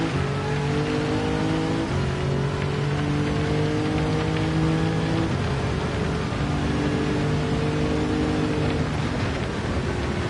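Race car in Gran Turismo 7 driving on soft tires in the rain, a steady wash of rain noise over a droning engine that shifts pitch as it changes gear, continuous and loud, without speech.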